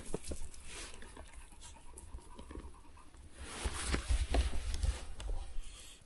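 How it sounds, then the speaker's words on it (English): A young dog pants in quick, soft bursts with faint whimpers and pattering movement nearby, growing a bit louder toward the end. "Young dogs. She's just a puppy."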